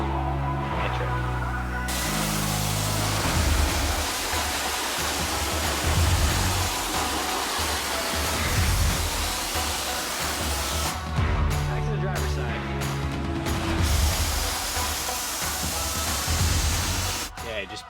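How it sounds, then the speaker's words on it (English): An Adams Polisher high pressure washer spraying a truck bed, a loud continuous hissing rush of water that drops out briefly a few times and then resumes, with some muffled talk in the background. "new Adams Polisher high pressure washing system"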